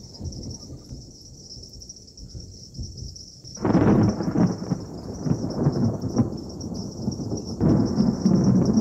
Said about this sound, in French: Mais, dans la nuit, au-delà des feuilles, un orage s'annonce.